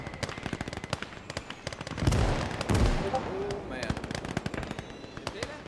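Mortar rounds land in the Call to Arms Gates of Hell video game during a trench battle: two heavy, booming impacts close together, surrounded by constant rapid machine-gun and rifle fire.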